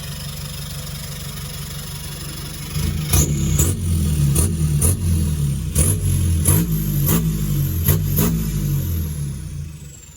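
A car with a stock engine and aftermarket exhaust idles with a low rumble, then is blipped in a series of sharp, loud revs, each rising and dropping quickly, through a throaty exhaust.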